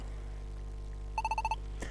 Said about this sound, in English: Alright, class, that's the bell.